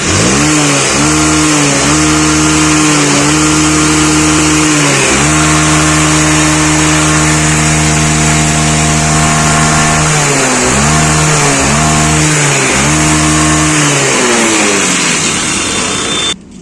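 A motorcycle engine idles and revs after a repair to fix poor pulling power, with repeated throttle blips rising and falling over a steady loud idle, close up and alone, no talk.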